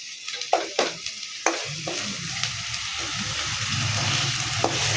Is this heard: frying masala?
yes